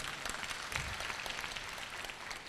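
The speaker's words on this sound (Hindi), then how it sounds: "तालियां बजा लो" An audience at a spiritual discourse claps together in a steady, even patter of many hands, fairly soft and distant, lasting a couple of seconds without voices.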